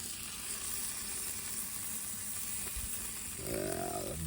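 Butter steaks sizzle steadily on a Blackstone griddle turned all the way up, a loud continuous frying hiss throughout, with a brief louder flare of sizzling near the end.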